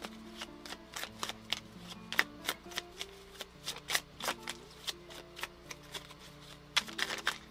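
Tarot cards being shuffled by hand, a rapid series of crisp riffling snaps in an irregular rhythm, close and clear with no talking.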